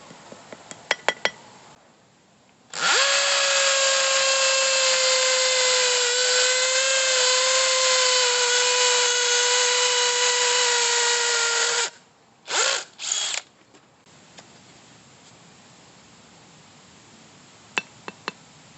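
A Stanley FATMAX V20 SBD721 cordless hammer drill bores a 6 mm anchor hole on its second setting, a loud steady whine for about nine seconds, then a few short bursts, with light clinks before and after.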